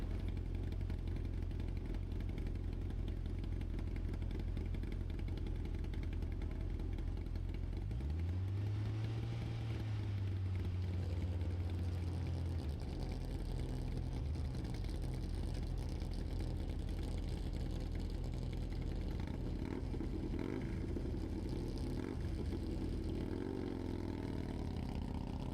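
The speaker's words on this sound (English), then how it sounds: "On course now, bike number 196. That is a 1000cc motorcycle" A modified 1000cc motorcycle runs at a dry lake race at El Mirage, one engine rising in pitch partway through and then holding steady, heard faintly from a distance over a continuous background rumble.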